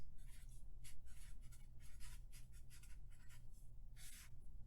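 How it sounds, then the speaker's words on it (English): Someone writes out the final answer to a geometry triangle problem, making close, quiet scratchy strokes in quick uneven bursts against a faint background hiss. "now we can write down our final answer"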